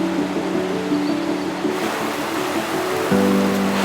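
Rushing river water pouring over the lower falls of a Yorkshire Dales waterfall, a steady broadband roar that holds close and constant, swelling slightly louder toward the end.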